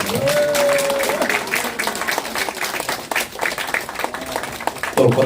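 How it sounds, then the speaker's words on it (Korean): Steady applause from an audience at a political party press conference, dense clapping running throughout at a fairly loud, even level. "먼저 정당복을 입을 때 박수를 한번 보내주시고"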